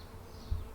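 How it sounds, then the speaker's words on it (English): A brief, faint insect buzz, a leafcutter bee droning close by for under a second against a quiet background. "Ah, here's a bee."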